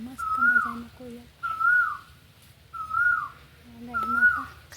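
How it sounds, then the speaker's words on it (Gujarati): An Asian koel calls on a hot day with four clear, rising whistled notes spaced evenly. The calls are moderately near, and a person talks quietly between and beneath them. "મસ્ત મજાની કોયલ બોલે હે બહુ આવું છે ગરમીવાળું"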